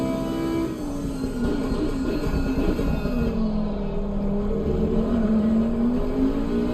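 An Audi race car engine in the racing game Assetto Corsa Competizione at the Red Bull Ring drones steadily at high revs, its pitch gently rising and falling in a continuous whine with no talking.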